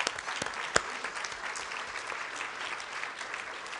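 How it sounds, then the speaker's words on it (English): Steady audience applause at a waterfront conference lunch plenary, many hands clapping together at moderate loudness for about four seconds, with one sharper clap standing out near the start. "if we could give him a round of applause."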